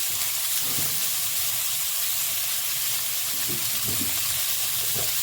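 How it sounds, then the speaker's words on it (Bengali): Bhetki fish pieces coated in salt and turmeric frying in hot oil, a steady broad sizzle and hiss throughout with faint low bubbling pops. "তারপরে ভালো করে একটু ঢেকে ঢেকে ভেজে নেব"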